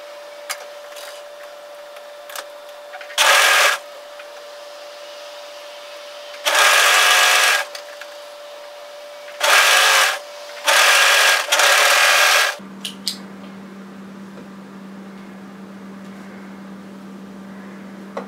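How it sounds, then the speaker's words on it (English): An overlocker sews three layers of a knit cardigan cuff together in several short bursts of rapid whirring stitching, separated by pauses with a faint steady hum, before a lower drone takes over at the end. "overlock those three layers together."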